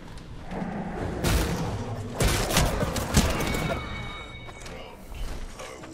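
Grenade explosions and combat in the battle royale game Apex Legends, Shadow Royale mode: several loud booming blasts and thuds over about six seconds, with crackling gunfire and a voice talking underneath.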